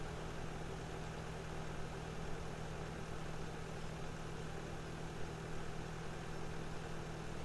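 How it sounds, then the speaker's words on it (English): A tractor engine idles steadily in Farming Simulator 17, a constant low droning hum with a faint rattle, unchanging and moderately quiet, with no other sounds over it. "Jackie's a good little tractor."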